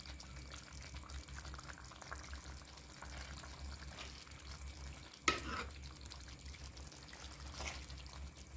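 A little water goes into a simmering pumpkin chickpea sabzi in a pan with a quick, faint splash. Soft stirring and a low sizzle follow, all quiet and close.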